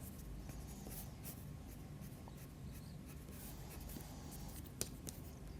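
Derwent Academy watercolour pencil shading broad shadows on paper: faint, steady scratchy strokes, close and quiet, with no talking.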